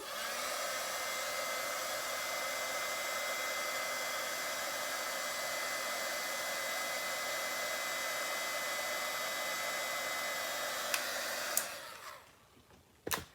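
A heat tool melts embossing powder on a handmade Mother's Day card, blowing a steady, close, loud whooshing hum for about eleven seconds before switching off, followed by a few soft handling clicks.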